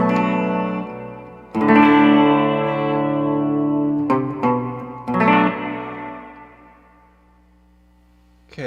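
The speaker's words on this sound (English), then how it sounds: "I'm going to use a Hall reverb based on a Lexicon Hall, just a nice lush 80s style reverb" An electric guitar runs through a lush, 1980s-style Lexicon hall reverb pedal, ringing out a few sustained chords whose long shimmering tails fade slowly into silence.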